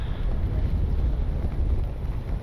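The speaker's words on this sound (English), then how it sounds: "Strong wind right now" Strong wind roars steadily into the microphone outdoors while a Freewing A-10 RC warbird jet flies, a dense low rumble filling the whole stretch with no talk.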